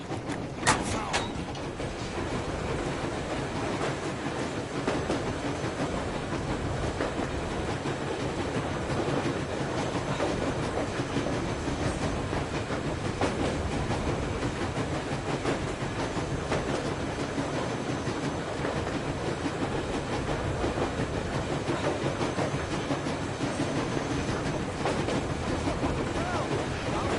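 A train rolls steadily through the Metro Exodus game world, a continuous rumbling rail drone with faint clickety-clack running the whole time at even loudness.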